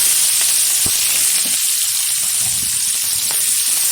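Washed prawns frying in a pan of hot oil, a loud, dense sizzle with a couple of stirring knocks, continuous and close, with no talking.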